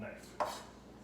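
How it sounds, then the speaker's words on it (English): A single soft knock of a knife slicing hot dogs on a board, quiet and close, with faint kitchen background. "get these sliced up here."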